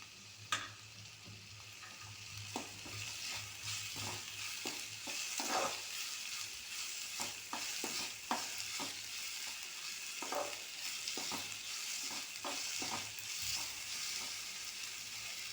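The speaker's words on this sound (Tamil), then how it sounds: "தக்காளி நல்லா வதங்கட்டும்" Chopped tomato and onion sauté in a pan with a quiet, constant sizzle, overlaid by frequent soft clicks and scrapes of stirring throughout.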